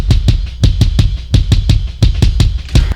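A drum kick blending natural kick drum with layered samples and a room sample thumps steadily in a quick repeating pattern, loud and close, with cymbal wash above.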